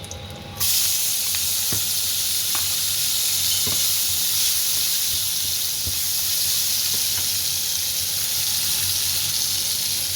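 Ginger, garlic and capsicum hit a hot pan still slick from frying pork, breaking into a loud, steady hissing sizzle that holds evenly throughout, with faint occasional ticks of the utensil.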